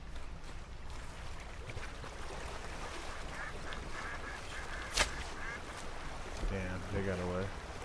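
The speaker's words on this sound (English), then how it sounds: "we got some ducks over here" Ducks quacking in a PS4 hunting game, a few brief calls near water toward the end over steady ambient noise and game sounds, with a person talking over it.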